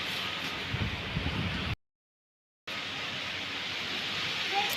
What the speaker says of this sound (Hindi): मौसम बदल गया, हवाएं चल रही है